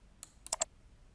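Three quick, sharp clicks, the last two close together, from a computer mouse during accounting software work, crisp and near against a quiet room.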